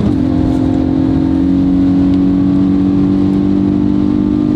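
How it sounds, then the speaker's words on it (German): A Hyundai i20N hot hatch with 204 horsepower accelerates hard on the Autobahn, its engine droning loud and close in a sustained, nearly steady note over road roar, heard from inside the cabin. "Wir sind auf der Autobahn, wir geben mal Gas."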